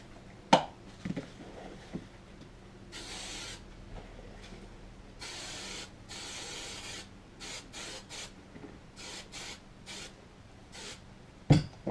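Hairspray mists from an aerosol can onto a shoe in repeated hissing bursts of varying length, with occasional soft knocks between sprays in a quiet room, no talking.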